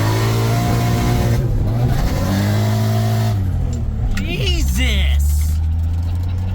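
A turbocharged Lexus IS300 revs hard, engine droning loud and close before dropping off, with squealing wheel spin and turbo flutter near the end while people talk.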